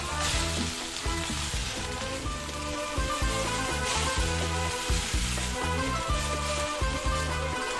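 Okra, boiled urad lentils, ginger, garlic and spices sizzle and fry in a pan with a steady loud crackle and occasional stirring, alone without talk.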